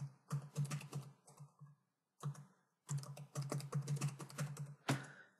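Fingers type on a computer keyboard in quick bursts of close, crisp key clicks, with a couple of brief pauses between runs while a username is entered during a website sign-up.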